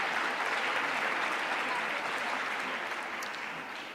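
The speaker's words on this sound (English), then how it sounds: "let's give her an applause first." Audience applause at a UNESCO conference in Naples, welcoming a young speaker to the stage: dense, steady clapping from a large crowd that holds evenly for four seconds and eases off slightly at the end.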